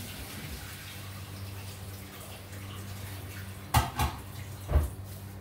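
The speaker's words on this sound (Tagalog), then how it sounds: "Ito na mga kapatid, tinapon ko na yung tubig, tapos ilagay ko dito sa kumukulong tubig." Soaking water is poured off rice for lamb biryani as a steady, close splashing pour, followed by a few clanks of a pot near the end.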